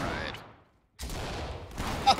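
Gunfire from the Ready or Not tactical shooter game: bursts of close shots in two clusters separated by a brief near-silent gap, with a sharp crack near the end.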